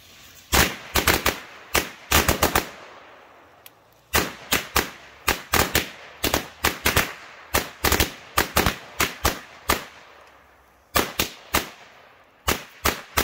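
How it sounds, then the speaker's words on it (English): Flash Cracker firecrackers go off one after another in sharp, loud bangs, sometimes in quick clusters and sometimes spaced apart, with a short pause partway through and no voices. "Here we go with Flash Cracker from Winda."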